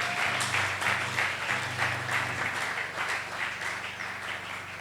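A church congregation at a Sunday service claps and cheers in praise of the Lord, a dense, sustained wash of applause from a crowd in a large room, holding steady throughout.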